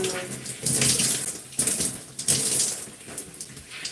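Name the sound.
water running from tap while washing hair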